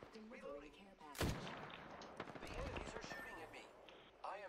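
Gunfire in the video game Apex Legends: a sharp loud shot, then a sustained stretch of rapid firing and impacts, with a voice briefly heard at the start and end.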